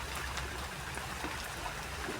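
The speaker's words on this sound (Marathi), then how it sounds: "किती मोठ्या प्रमाणात पाणी होता" Water flows steadily through a garden, a faint, continuous wash and trickle that holds from start to end with no voices over it.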